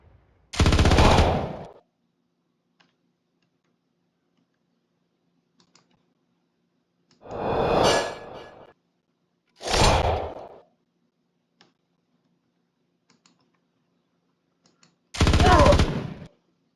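Gunfire from a soldier's big gun in the video game Star Traders Frontiers: four separate loud bursts with long silent gaps between them, each lasting roughly a second.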